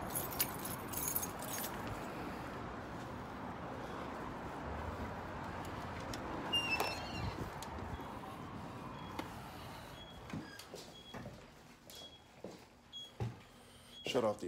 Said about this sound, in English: Now I just gotta get the keys out